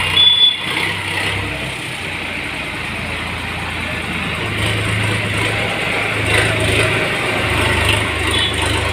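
A Sonalika 35 DI tractor drives with a steady, fairly loud diesel engine drone and low rumble throughout, rising slightly in the second half, with no clear talk over it.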